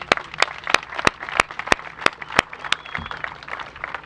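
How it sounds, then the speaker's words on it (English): A crowd at an outdoor groundbreaking for a new soccer stadium applauds the mayor, with a sustained burst of clapping punctuated by several sharp, prominent nearby claps at a steady beat, and no talking. "Let's give her a big round of applause."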